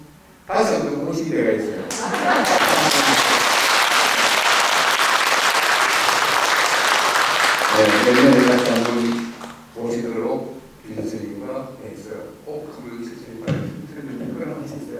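An audience at a Korean Buddhist temple dharma talk by a visiting senior monk breaks into dense, sustained applause for several seconds, then it cuts off and someone speaks, with a few stray sounds under his voice.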